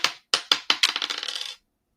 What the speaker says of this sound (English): so I'll roll my dice